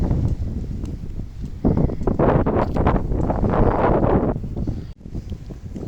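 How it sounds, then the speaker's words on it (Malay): Gusty outdoor wind buffets the microphone of a Mi 10T Pro phone, loud rumbling bursts that swell and fade over several seconds, with no one speaking. "Sorry kalau bunyi angin tu, sekarang ni kawasan tengah berangin ni."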